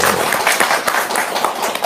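An audience claps hands in a steady, dense patter of applause that fills the room, lasting a couple of seconds with a voice faintly underneath.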